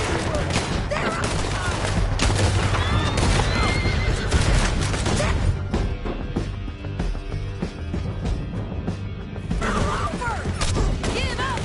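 Horses in a PS4 video game whinny repeatedly amid galloping hooves and bursts of gunfire, a dense, loud, chaotic battle mix with shouting voices.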